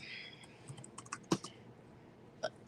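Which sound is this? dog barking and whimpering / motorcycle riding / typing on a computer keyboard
typing on a computer keyboard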